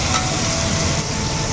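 Shrimp and chicken fry in a pan for mixed fried rice, a steady close-up sizzle and crackle with no pauses.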